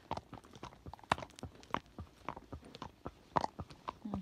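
A Tennessee Walking Horse is ridden along a road, its hooves clip-clopping close and steady in an even, quick four-beat rhythm throughout, with no talk over it.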